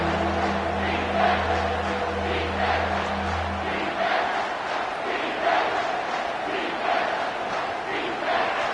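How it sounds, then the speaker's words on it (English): A football stadium crowd roars on third down at an Alabama game, a loud sustained mass of cheering and yelling that swells in waves, with a low horn-like drone fading out early. "this crowd is tearing the lid off this place"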